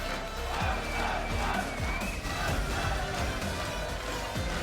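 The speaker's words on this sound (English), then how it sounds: "starting to make some noise with the rest of the crowd as they want to have a party" Esports crowd at the Halo HCS Major London, Sentinels versus Quadrant: a dense, steady roar of cheering and shouting fills the arena throughout, with low rhythmic thumps from an in-house band pounding underneath.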